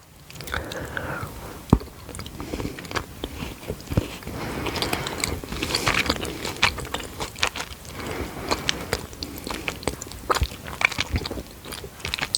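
Milk chocolate with popping candy being eaten close to the microphone, with sharp bites, crackling pops and soft, steady chewing.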